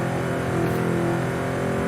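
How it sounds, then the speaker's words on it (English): A 1970 Chevrolet Chevelle SS 454's exhaust drones loudly and steadily, engine revving in a deep, throaty rumble held high without letting up. "I would want to hear that exhaust"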